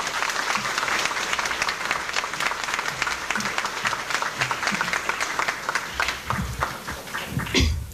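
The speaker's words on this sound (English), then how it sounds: "If you can give a warm round of applause for Mrs." An audience at a school auditorium dedication gives a warm round of applause, a thick continuous wash of many hands clapping that holds steady throughout, with a few louder knocks near the end.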